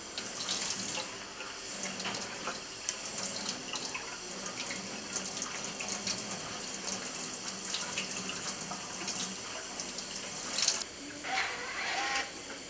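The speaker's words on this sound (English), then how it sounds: "During this time, we do a social wash and make sure that our nail beds and fingernails are clean." Tap water runs steadily into a sink while hands are washed before a surgical scrub in a nursing lab, a continuous close hiss and splash with small clatters throughout and no voices.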